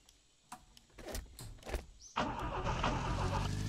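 An abandoned Lada in The Long Drive cranks after a few clicks and knocks, then its engine catches and settles into a steady, close idle.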